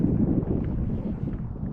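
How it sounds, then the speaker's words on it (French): Steady low wind rumble buffeting the microphone at sea, a light northwest wind of 10-15 km/h over calm water, continuous and fairly loud, with no voices. "Il y a un petit peu de vent là, 10-15 km/h, un vent de nord-ouest."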